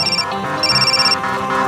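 Mobile phone ringtone sounding in a hospital setting, a short electronic melody with bright repeated tones, close and clear with no talking.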